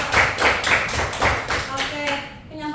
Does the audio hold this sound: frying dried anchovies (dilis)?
no